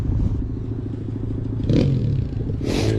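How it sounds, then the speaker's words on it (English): Distant motorbikes pass near an old foundry and mine, a low throbbing engine drone with two brief louder swells as they rev or go by. "You can hear the motorbikes in the background."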